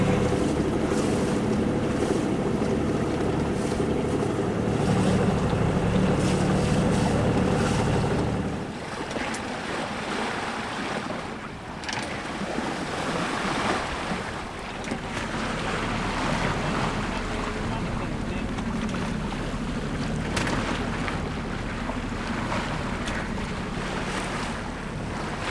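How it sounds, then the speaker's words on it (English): A sailboat motor sailing on the Mediterranean Sea, with a steady low engine drone, rushing water and waves against the hull, and wind buffeting the microphone throughout, the engine rumble heavier in the first several seconds. "We are motor sailing to Rochella Ionica."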